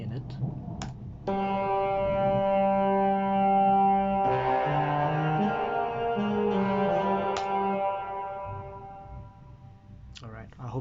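Sustained harmonic music with rich layered tones, played through a compressor and a hall-style reverb that leaves long echoing tails; steady and fairly loud throughout, with no talking.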